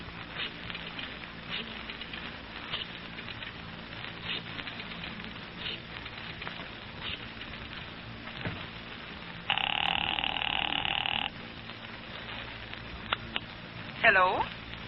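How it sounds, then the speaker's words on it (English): A telephone rings in a steady burst partway through an old-time detective radio drama's office scene, set against crackly, hissy recording noise with speech around it. "We've got an important phone call to make."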